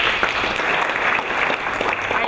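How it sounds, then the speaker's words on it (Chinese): Warm applause at a formal state banquet, many hands clapping in a dense, steady patter that fills the room evenly from start to finish. "所以请大家给这一些伙伴一个热烈的掌声"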